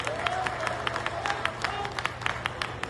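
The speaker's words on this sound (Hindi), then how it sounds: "तालियां इसके लिए" Applause from a crowd at a Congress party political gathering, a steady wash of many hands clapping with scattered sharper claps, fairly loud and continuous, with a faint tonal hum underneath.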